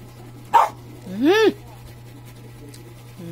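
A pet dog begging for ice cream gives a short yelp followed by a rising, drawn-out whimper, then falls quiet before another faint whine starts, all close by with a steady low hum underneath.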